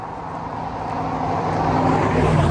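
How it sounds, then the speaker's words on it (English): Cars rushing past on a road, a broad roadway whoosh that swells steadily louder as the vehicles draw near, with no voices heard. "Bunch of cars."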